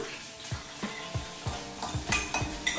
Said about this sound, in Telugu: నేను దీంట్లో చిల్లీస్ యాడ్ చేస్తున్నా అండ్ ఆనియన్ కూడా యాడ్ చేస్తున్నా